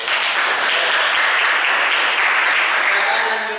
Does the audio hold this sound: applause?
yes